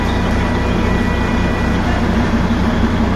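Diesel engine train pulling into a station in Darjeeling, a steady loud low rumble with droning engine throb and continuous mechanical noise, close by.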